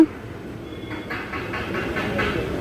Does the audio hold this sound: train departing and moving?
yes